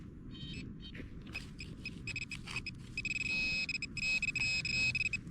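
A metal detector sweeping a field at sunrise signals over a buried scrap of aluminium foil with a run of faint electronic beeps and buzzing tones that settle into a steadier pulsing alarm toward the end.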